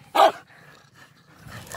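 Dogs playing with a stick in an open field give one sharp, loud bark, followed by softer yips and growly noises at moderate distance, with no talk over them.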